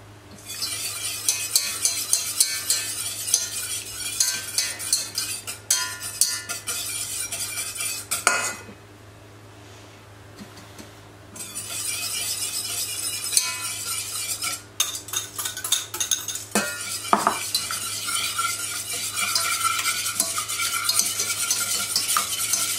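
A whisk scraping rapidly around a saucepan while egg yolks are stirred into béarnaise sauce, a dense, continuous metallic rasp broken by a short pause and a few sharper clinks, close and alone over a low hum.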